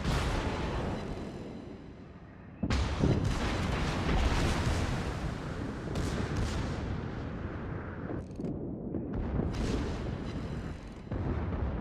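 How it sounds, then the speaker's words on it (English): Secondary battery guns on a warship in World of Warships, firing in a dense, continuous barrage. Loud, overlapping cracks and booms sit over a constant roar of naval combat. "get these secondaries up and running"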